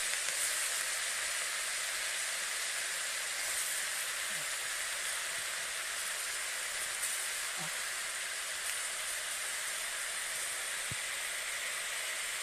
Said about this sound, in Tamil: இதை நல்லா வதக்கிக்கிறோம்.